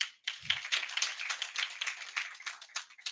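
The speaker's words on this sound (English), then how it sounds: "Let's clap for her." Audience at a county assembly end-of-year award ceremony claps in a short, fairly steady burst, the patter of many hands filling the room at moderate level with a brief low thump near the start.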